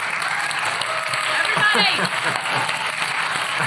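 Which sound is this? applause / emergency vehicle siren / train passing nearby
applause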